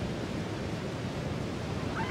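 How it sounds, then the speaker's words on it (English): Roaring water of Niagara Falls in Ontario, a dense, steady broadband rush that holds at an even loudness throughout with no pauses or voices. "the place whose name means the thunder of water"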